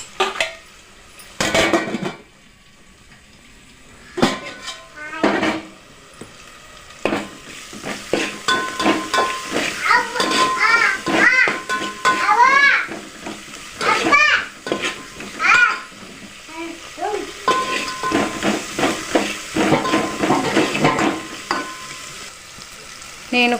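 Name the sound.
bagara rice mixture cooking and stirred in pot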